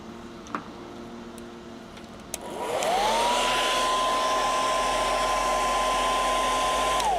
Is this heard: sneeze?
no